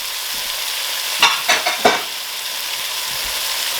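Steady frying sizzle of marinated meat in a pan with a few sharper bursts as food is stirred or added, close and continuous throughout.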